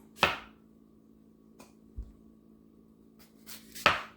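A knife chops jalapeno peppers into chunks on a cutting board for gazpacho, giving a handful of sparse, sharp, close cuts separated by quiet pauses.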